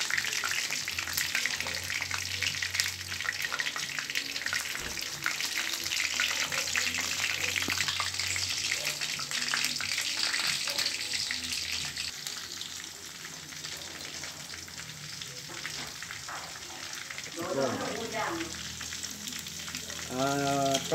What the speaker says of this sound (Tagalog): Fried chicken.